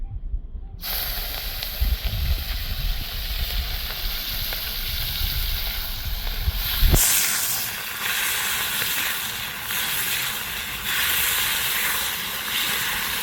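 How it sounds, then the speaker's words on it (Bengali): Shrimp dropped into well-heated oil in a wok bursts into a loud, steady sizzling hiss that starts abruptly and carries on without pause, close and alone. "চিংড়ি মাছটা আমি কড়াইয়ের মধ্যে দিয়ে দিব তেলটা খুব ভালো মতো গরম হয়ে গেছে"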